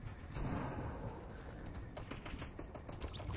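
Rumbling storm effect from the storm item in the Fortnite video game, a steady low roar with crackling rain-like texture and a few sharp taps, moderately loud throughout with no talk.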